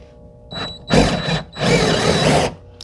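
A power drill works at a Phillips head screw in boat-building fasteners, whirring in three bursts, short then longer, as the bit struggles to back the screw out; no one talks.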